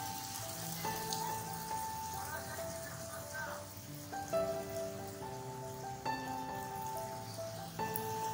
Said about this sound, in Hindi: एक तूफानी बारिश शुरू है